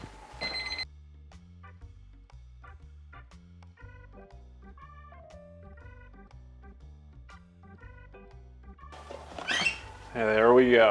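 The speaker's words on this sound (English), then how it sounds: "Okay, there goes the timer," A kitchen oven timer rings in a steady run of repeated electronic beeps while biscuits bake, fairly close and clear, with brief talk before it starts and again at the end.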